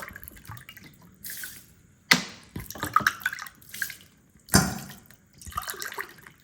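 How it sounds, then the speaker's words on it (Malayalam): Water splashes and trickles into a container of rice in a few separate bursts, with drips and clatter between them, fairly close and moderately loud. "അതിനകത്തോട്ട് നമ്മൾ കുറച്ച് വെള്ളം ഒഴിക്കണം"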